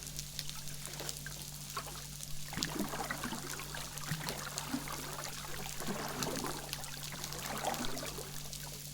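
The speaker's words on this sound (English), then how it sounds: "Here we're just at the tail end of that boat passing through." Underwater, a passing boat fades away as caught by a hydrophone hung from a buoy, leaving faint churning, sloshing water and light crackle over a steady low hum.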